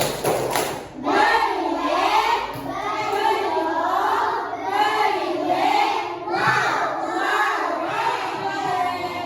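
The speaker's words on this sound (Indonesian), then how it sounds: "Kita kembali balik tepuk keren untuk kelompok 2" Primary school children in a maths class do a rhythmic clapping cheer for a classmate group, loud chanted voices rising and falling in repeated phrases with claps and thumps underneath.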